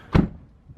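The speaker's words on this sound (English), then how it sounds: "Open your door." A single dull thunk as the door of a Jaguar XK car is opened, close and brief, followed by quiet.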